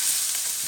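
Fennel seeds, cumin and a cinnamon stick hit hot oil in a pan for a curry, giving a brief, steady, close hissing sizzle with no voices over it.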